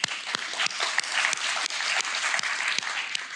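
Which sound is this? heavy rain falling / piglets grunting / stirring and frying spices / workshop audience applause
workshop audience applause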